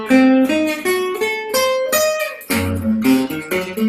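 Guitar plays a diminished seventh arpeggio, as in a guitar lesson, with a series of clear, evenly picked single notes rising and falling in a quick, steady rhythm, close and solo, without speech.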